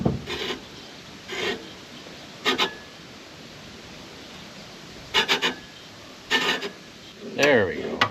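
Short bursts of metallic scraping and ratcheting come from a tool tightening set screws on a pulley of a Hustler zero turn mower, close and moderately loud, separated by quiet pauses.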